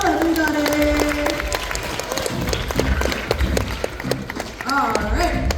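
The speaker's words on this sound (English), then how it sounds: "give another round of applause to the whoosh bottle, everybody" Audience applause at a science museum explosion show, clapping and crowd noise mixed with overlapping voices and chatter, moderately loud and uneven throughout.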